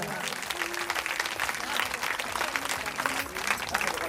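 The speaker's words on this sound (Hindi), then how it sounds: "तालियों से स्वागत किया जाए।" Audience applause at a Shrimad Bhagwat Katha religious gathering at Siddhkaleshwar Dham in Jabalpur, a continuous dense clapping from many hands throughout, steady and fairly distant.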